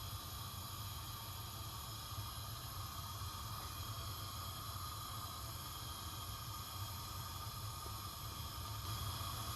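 Tuna bricks frying in hot oil in a pan, giving a steady, even sizzle and hiss that holds constant throughout, with a voice speaking briefly over it.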